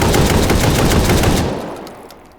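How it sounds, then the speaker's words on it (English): A drum-fed Russian shotgun fires semi-automatically as fast as the trigger can be pulled in the VR game Hot Dogs, Horseshoes and Hand Grenades, a loud close burst of rapid booming shots for about a second and a half, then echoing away. "as fast as you can pull the trigger, that's the fire rate for this gun."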